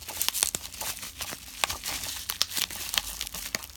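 Bubble wrap being pulled apart and crinkled while packages are unwrapped by hand, with quick irregular pops and rustling crackles close up, no talking.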